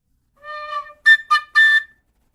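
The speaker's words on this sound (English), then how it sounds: "Yes, you have the whistle." A single whistled tune, clear and close, opening with a sustained wavering note and then three short, sharp bursts, heard alone.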